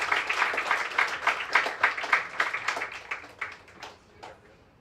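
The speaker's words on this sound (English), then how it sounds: "Let's give her another round of applause." Audience applause at a youth leadership breakfast program, a loud burst of many hands clapping that gradually thins and fades out over a few seconds, with no talk over it.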